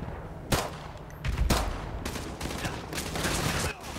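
Rapid bursts of video game gunfire crack out as a player fights through a group of enemies while low on ammo, with several loud volleys and shots over a steady background.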